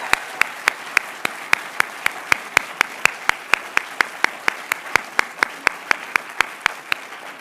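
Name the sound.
audience applause for the writers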